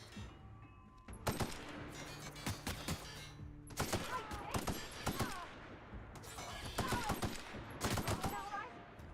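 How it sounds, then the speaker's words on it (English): Bursts of gunfire in The Outer Worlds video game, several rapid volleys spread across the stretch with brief pauses between, loud and close, with faint talk underneath. "What are you shooting at?"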